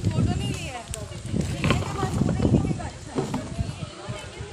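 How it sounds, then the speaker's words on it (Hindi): A horse's hooves clip-clop in an uneven rhythm along a path in a national park near Mumbai's Kanheri caves, heard under people talking nearby. "घोड़ा घोड़ा"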